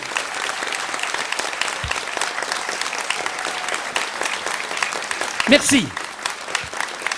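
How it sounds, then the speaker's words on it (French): An audience applauds a performer at a live show, steady, full clapping throughout, with someone briefly speaking over it and a short louder burst near the end. "C'est gentil de m'applaudir"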